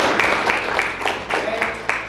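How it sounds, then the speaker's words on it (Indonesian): Students in a classroom clap together, with steady, evenly spaced handclaps sounding close and moderately loud for a couple of seconds. "tepuk tangan juga semuanya untuk kalian."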